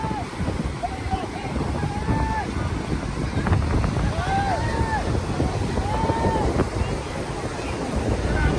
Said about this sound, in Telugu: Boat riding.